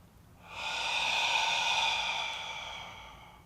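A single forceful breathy exhale rushes out through the mouth in a breathing exercise, swelling and then fading over a couple of seconds. The breath is fairly soft and close, with no voice.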